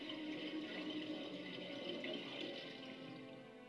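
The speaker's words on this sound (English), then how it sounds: "Drain the tub. It's filled with muddy water." Muddy water draining out of a tub in the Resident Evil game, heard as a steady gurgling, rushing flow that holds at a fairly constant level throughout and eases slightly near the end, with no voices over it.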